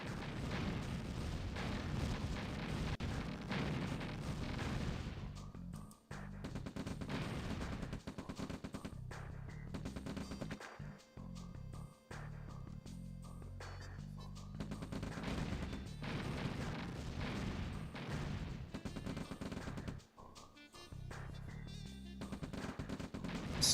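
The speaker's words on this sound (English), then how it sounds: "And the tank battle begins." A tank battle in the Red Alert real-time strategy game rages nonstop, with dense overlapping gunfire, rapid cannon shots and explosions filling the mix, broken only by a few very short gaps.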